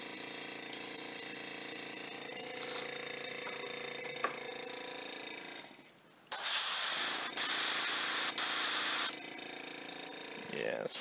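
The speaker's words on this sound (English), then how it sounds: "Clearing out my airbrush here." An airbrush is cleared out with sustained hissing sprays: a long steady hiss, a brief pause, then a louder burst of spray that eases back to a softer hiss.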